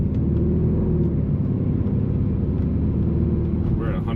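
A 2009 Mercedes C63 AMG engine with 172,000 miles and a rebuilt top end rumbles low and steady from inside the car, with a dense continuous drone and no distinct rev blips standing out.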